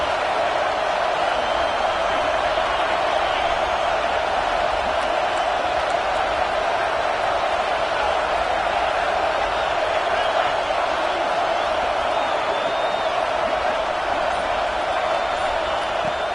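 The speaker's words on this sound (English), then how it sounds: "This crowd bringing the energy and noise early." Stadium crowd noise in the Madden 26 football video game, a dense, steady roar of many voices that holds at high level with no letup.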